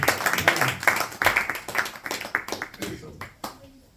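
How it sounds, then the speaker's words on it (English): A group clapping in a steady burst of applause at a Bhagavad Gita study gathering, loud at first and thinning out toward the end, with voices mixed in. "Please give a round of applause to everyone."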